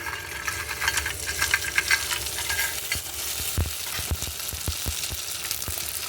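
Rava vadiyalu, semolina crisps, frying and crackling in hot oil in a home kitchen, a steady close sizzle with sharper pops and stirring clatter in the second half.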